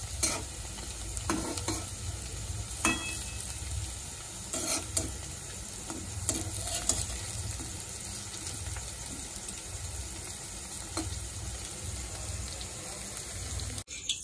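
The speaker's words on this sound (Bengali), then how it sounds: "আমার ডালের বড়া ভাজা কমপ্লিট হয়ে গেছে" Lentil fritters (dal bora) fry in a pan, a continuous soft sizzle and crackle of hot oil with scattered sharp pops and occasional scraping stirs, close and moderately quiet, with no talk over it.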